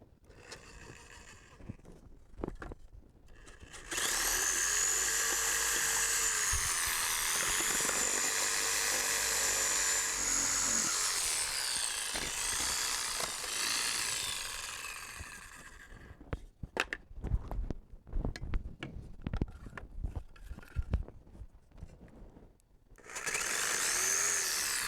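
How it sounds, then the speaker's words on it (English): Jigsaw scrolling curved cuts in wood corbels, a loud high buzzing whine that runs steadily for about eleven seconds, then choppy bursts and clatter, and starts again at the end. "jigsaw."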